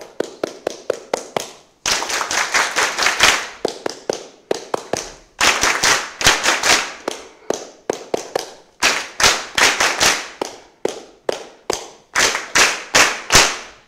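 A live audience claps along in bursts, sharp hand claps in a steady rhythm that stop and restart several times, loud and close, with no talking over them.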